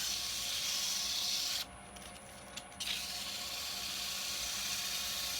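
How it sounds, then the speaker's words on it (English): Continuous abrasive rubbing on a spinning mahogany box lid held on a woodturning lathe, a steady hiss that stops briefly and then resumes, close and moderately loud. "you can rub this bit down here as well"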